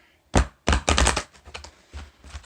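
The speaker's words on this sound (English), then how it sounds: "Give one good shuffle here" A few sharp, papery riffles of tarot cards being shuffled in quick bursts, then softer flicks and taps, close and clear with no talking.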